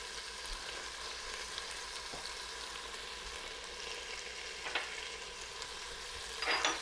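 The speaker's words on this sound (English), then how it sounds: "give that a good stir and cook until the tomatoes are nice and jammy" Tomatoes and salt cooking in a pan for ringan batata nu shaak, a soft, even, quiet sizzle with occasional brief scrapes of stirring near the end, without any speech.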